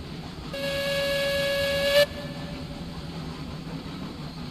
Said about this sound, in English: I think a train's coming through my town. I hear a train going by.